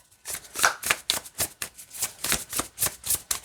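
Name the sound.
shuffling tarot cards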